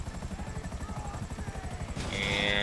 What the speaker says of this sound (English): I can land the helicopter.